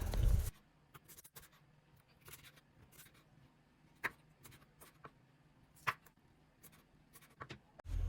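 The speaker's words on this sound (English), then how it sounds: "So I'm just going to cut that into tiny bits" Knife cutting ponmo, Nigerian cow skin, into tiny bits for ofada stew, heard as scattered sharp chops and clicks at an uneven pace against a quiet kitchen background, with a heavier knock at the very start and end.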